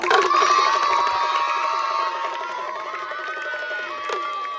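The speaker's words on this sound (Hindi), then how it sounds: "सारे बच्चे ताली बजाओ," A crowd of children at an Indian street performer's show shouts, claps and cheers together in one loud, sustained chorus that eases off slightly toward the end.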